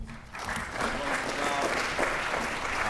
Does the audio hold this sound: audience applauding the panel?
yes